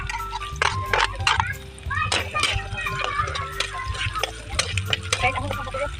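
Garlic sautéing in a pan gives a busy sizzle broken by repeated scraping stir strokes and clinks, close and fairly loud throughout.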